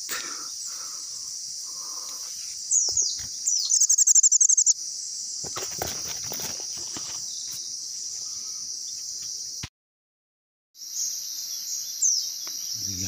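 Bird chirps and calls from a serabut bird sound among a constant high insect drone outdoors in drizzly weather, with louder bursts of twittering and a brief silent gap partway through.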